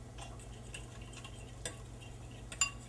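An egg, vanilla and nutmeg mixture is whisked in a bowl, giving soft, quiet continuous stirring with faint scraping and a sharp utensil clink near the end.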